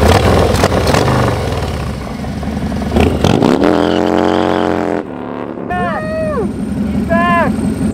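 A Harley-Davidson Softail motorcycle rides past with a loud engine roar that swells and revs, then shifts pitch, while people talk and shout nearby.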